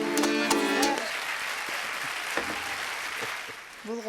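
An audience claps during a studio broadcast show, a dense, steady patter of many hands lasting a few seconds. A voice speaks briefly at the start, and the clapping fades near the end.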